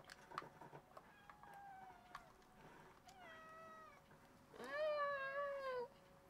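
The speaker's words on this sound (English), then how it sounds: "Yes, you're a cat. Shut up, cat." Several drawn-out cat meows from a real cat in a room, rising and falling, with the last and loudest around the end, heard alone against quiet background while a Far Cry 3 session goes on.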